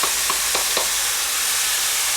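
Ground beef and onions frying together in a pan, a loud, dense, continuous sizzle with a few quick stirring scrapes near the start.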